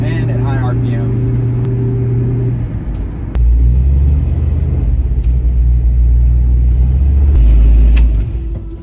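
A car engine runs at high RPM with a loud, steady droning rumble that shifts pitch midway and rises again before dropping off at the end, heard up close with talking in the background.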